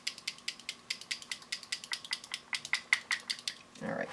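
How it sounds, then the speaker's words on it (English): Rapid rhythmic rattling of small Viva Decor Precious Metal Color paint bottles being shaken, a steady series of close, crisp clicks ending in a brief rustle. "I'm just going to go ahead and give these a little bit of a shake"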